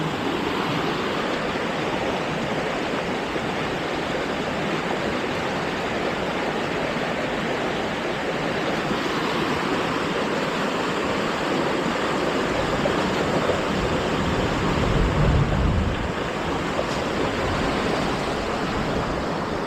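Floodwater in a river swollen by continuous rain churns on toward Laguna Lake, heard as a loud, unbroken roar of rushing water, close and steady, with a brief low thump partway through.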